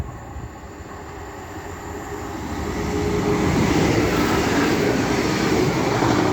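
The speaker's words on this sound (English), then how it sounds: "The next train to be coming through will be a Class 195 running from Leeds to" Class 195 train running from Leeds to Chester passing at Castleton on the Calder Valley Line at rush hour, a broad rushing roar building over a few seconds and then holding loud and close.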